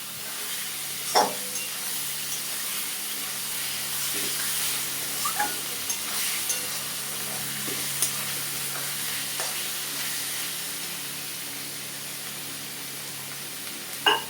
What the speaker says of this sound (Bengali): এখন আমি পনিরটা দিয়ে দিলাম।